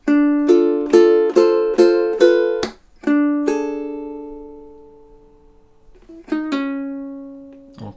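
Ukulele plucking measures 11 and 12 of the Goosebumps theme: a run of quick repeated notes, then longer ringing tones that decay, with a final pair of plucks fading out, played alone and close.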